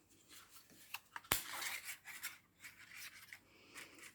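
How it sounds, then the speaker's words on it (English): Scissors trim cardstock ladybird bodies for a Hello Ladybug card, giving soft rasping snips and paper rubs with one sharp click, quiet and close, with no speech. "So just need to trim that off a little."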